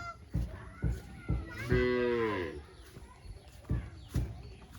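Cattle on a riverside road in the rain give one long, drawn-out moo in the middle, set among scattered dull thumps and knocks before and after.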